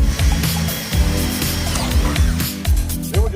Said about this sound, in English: Then we're just drilling 4 holes, 1 in each corner, so we can make our cuts.